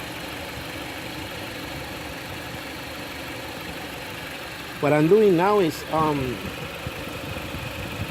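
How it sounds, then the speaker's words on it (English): A 2014 Jeep Patriot 2.4L engine idles steadily after an oil flush, a constant low hum running throughout, with someone speaking briefly over it toward the end. "basically I'm letting the engine build pressure because of the fact that it was without oil, and I flushed the engine"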